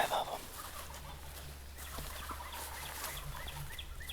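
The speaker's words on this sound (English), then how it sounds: "There's birds gobbling everywhere this morning." Wild turkeys gobble at dawn from a roost beside a river in an Iowa field, with a loud close call at the start followed by fainter gobbles and clucks scattered through a quiet morning backdrop.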